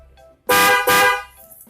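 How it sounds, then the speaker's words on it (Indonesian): Two loud, sharp horn blasts in quick succession, a bright blaring tone from a waterproof Denso snail-type horn on a motorcycle, close by with quiet before and after. "suara klakson Denso yang bentuknya kekeong"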